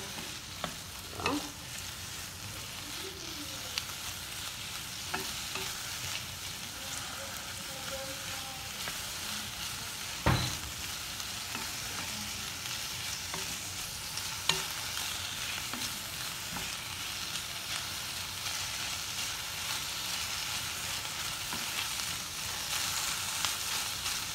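Pasta mixture made with Maggi masala stirred and fried in a pan, a steady sizzle running throughout with scraping spoon strokes and occasional clinks, close and alone with no talking.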